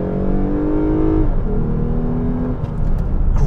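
A naturally aspirated Lexus GS 350 pulls hard at full throttle, its loud, rising induction tone climbing, dropping at a gear change and climbing again.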